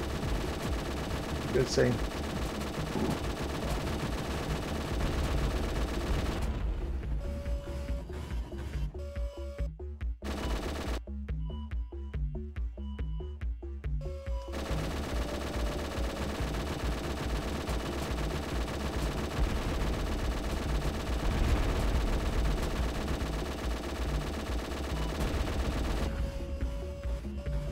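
Minigun fire in the video game G-Police 2, long stretches of rapid, continuous rattling bursts with short pauses between them, while someone talks over the shooting.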